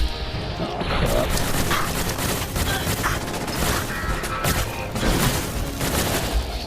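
Gunfire aimed at the player in the video game Fallout 4: continuous loud rattling shots and impacts with booming hits throughout, dense and close.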